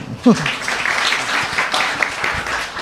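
An audience applauds during a talk with Mas Sabrang and Gus Hafi, a moderately loud, steady burst of clapping with a voice briefly speaking at the start.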